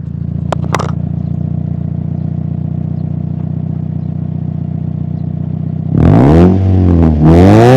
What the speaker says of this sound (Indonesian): Ini langsung aja kita spill untuk suara knalpot ini ya